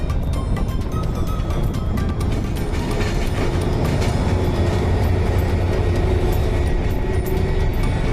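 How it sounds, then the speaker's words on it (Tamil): Goods train of 11 wagons rolling across the Pamban vertical lift bridge on a trial run at 20 to 60 km/h, a loud continuous rumble with rhythmic clatter throughout. "பாம்பன் செங்குத்து தூக்கு பாலத்தில் முதல் முறையாக 11 பெட்டிகளுடன் சரக்கு ரயில்"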